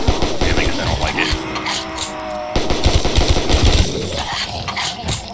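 Rapid, continuous submachine gun fire from Black Ops III Zombies, a fast stream of sharp shots that briefly drops out and then resumes, mixed with other game sounds and voices talking.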